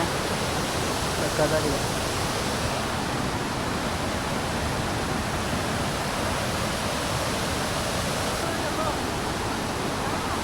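Bandaje Falls in the Western Ghats rushing heard from above, a dense, even roar of falling water that holds steady and loud for the whole stretch with no breaks.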